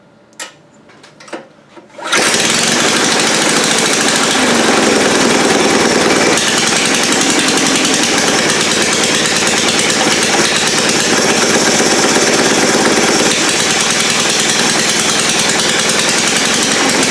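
After a couple of faint clicks, the engine of a homemade dump truck suddenly catches and settles into a loud, steady, buzzing run that continues unbroken to the end, with no voices.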